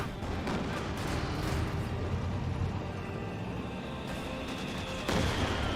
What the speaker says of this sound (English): time to use barrage from the 120mm mortar